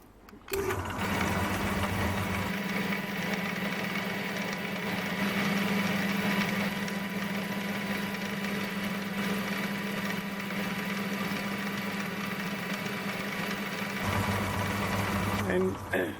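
A small lathe with slipping belts, set to low range, drills a 3mm pilot hole in a Gingery four-jaw chuck nut with a steady mechanical whirring hum and low drone, constant and close, starting and stopping near the ends.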